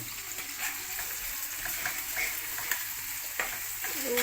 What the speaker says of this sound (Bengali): এখন রসুন দিয়ে দেব।